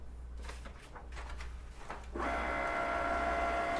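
Cricut cutting machine starting up to cut pearl vinyl, soft mechanical clicks and shuffles that give way to a steady motor whir, quiet and close.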